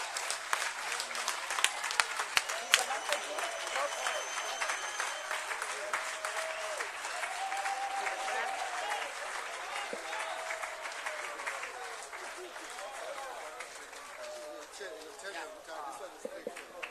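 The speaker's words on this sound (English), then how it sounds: "Let's give her another round of applause." A crowd at a political rally applauds in a long, dense wash of clapping with cheering and voices mixed in, fairly distant and steady, fading a little toward the end.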